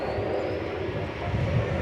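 A plane taking off at DFW Airport, its engines giving a steady, broad roar that holds constant for under two seconds, no talk.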